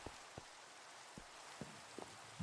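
Rain falls in the video game Minecraft as a faint, steady hiss, with a few soft, sparse drip-like taps scattered through it and no talk.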